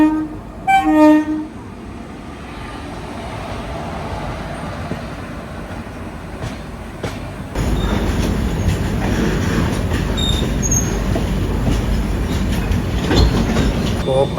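A Garib Rath express passenger train near Bhopal sounds its horn briefly, then rolls past with a steady rumbling clatter that grows louder and rougher partway through.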